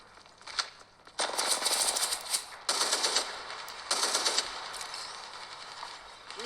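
Bursts of automatic gunfire in the Apex Legends Mobile shooter game, three long rapid volleys of sharp cracks with short pauses between, loud and close, followed by lighter scattered shots.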